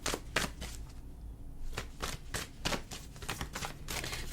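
A deck of tarot cards is shuffled by hand at close range, giving a series of quick riffling bursts in an uneven rhythm with short pauses between them.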